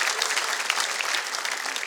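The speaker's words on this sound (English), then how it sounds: "You don't have to clap." Audience applause at a comedy club show, a dense steady clapping that fills the whole moment loudly and evenly without a break.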